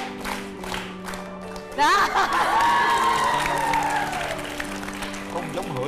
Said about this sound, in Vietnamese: Má vỗ tay.